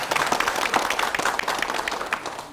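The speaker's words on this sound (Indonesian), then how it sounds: "Boleh kita berikan tepuk tangan?" Audience applause at a public debate between regency head candidates in Kulon Progo, a steady wash of clapping from a crowd, moderately loud and continuous throughout.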